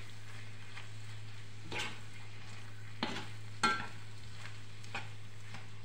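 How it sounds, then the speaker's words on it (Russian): Azu with cucumbers and tomato paste stirred and frying in a pan: a quiet steady sizzle under a low hum, broken by a few distinct scraping stirs of a utensil against the pan. "И обжарю все вместе минуты 3."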